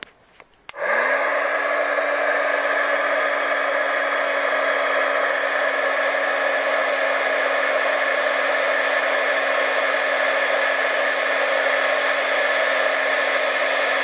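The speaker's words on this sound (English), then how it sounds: "make sure this is in position and use my heat gun." A heat gun shrinking tubing while building a men's traditional pow wow dance bustle; it starts with a click, then blows a loud, steady whirring hum close by for the whole stretch.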